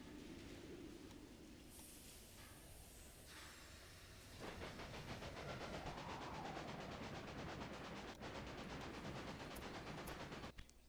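A train in a railroad video game, heard as a steady hissing rumble with rhythmic clicking that grows fuller partway through, punctuated by a few sharp clanks near the end.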